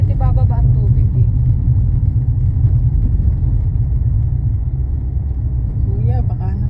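A car on a road at night beside water: a loud, steady low engine rumble and road noise that hold throughout, close by, with brief voices at the start and near the end.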